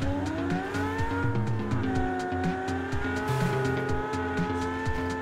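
A Lamborghini in the video game PUBG, its engine holding a steady droning pitch with shifting tones and brief tire squeals as it drives, heard up close with no talking.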